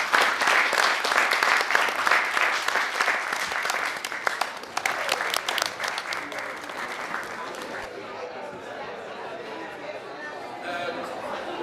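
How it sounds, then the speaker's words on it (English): Audience applause from a crowd, loud sustained clapping that fades gradually with some chatter and voices mixed in toward the end. "Can we give Mr. Daryl Harper a massive round of applause?"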